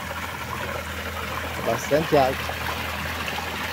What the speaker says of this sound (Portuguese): Um córrego aqui bem, bem generoso.